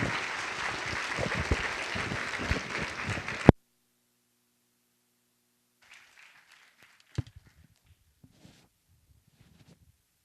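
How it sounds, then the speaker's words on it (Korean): A church congregation breaks into loud, sustained applause to welcome a pastor at an evening worship service. The applause stops abruptly, leaving near silence broken by a few faint knocks and shuffles. "우리 나오실 때 큰 박수로 우리 목사님 환영합니다"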